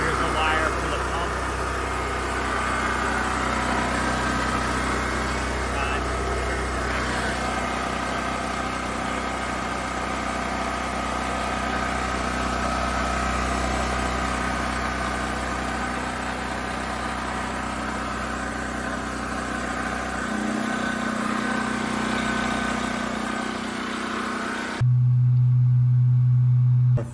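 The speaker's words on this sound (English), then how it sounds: "let's go turn on the pump and see if she does her job" A septic effluent pump runs in a liquid tank setup, giving a steady, fairly loud mechanical hum with a constant drone. Its tone shifts near the end. Talking is heard over it.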